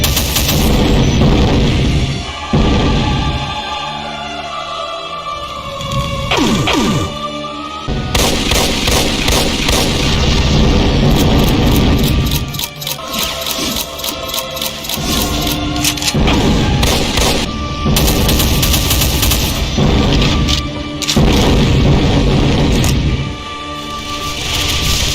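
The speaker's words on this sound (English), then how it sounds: "It can also fire a barrage of rocky explosive fireballs" A Hell Baron variant in a Doom mod unleashes barrages of explosive fireballs, loud rapid bursts and booming impacts that come in dense volleys, broken by a few brief lulls.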